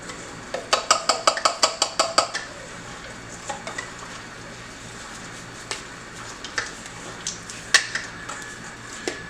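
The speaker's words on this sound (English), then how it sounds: "I'm just going to keep stirring until this is all nice and melted" Goat milk soap mixture melting in a pot is stirred with a utensil: a quick run of sharp clinks and scrapes against the pot at first, then sporadic single taps over low background noise.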